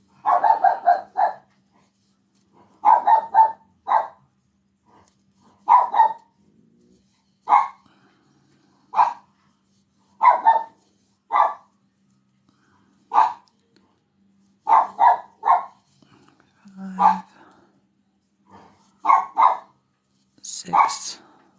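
A dog barks repeatedly inside a house at someone walking in the kitchen, short bursts of two or three loud barks spaced every second or two, with a brief voice heard between them.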